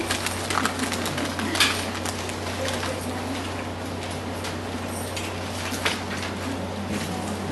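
Pigeons coo softly amid a cluttered room tone with a steady low hum and occasional light clinks.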